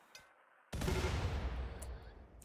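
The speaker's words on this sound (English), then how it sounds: "Mortar shells inbound" Incoming mortar shells in the colony-building game Rimworld: a sudden loud, dense barrage bursts in and rumbles on continuously, with faint scattered pops before it.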